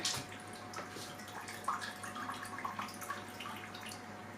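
Water trickles and drips steadily back into a home aquarium after a pump swap, a faint close gurgle with scattered droplet splashes and no voices.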